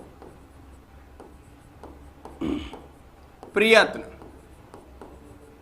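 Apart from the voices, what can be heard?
writing on a board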